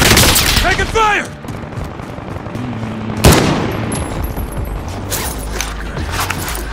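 Gunshots and bursts of fire ring out in the video game Call of Duty: Modern Warfare, with a sharp loud crack midway amid clattering mechanical effects and a brief voice.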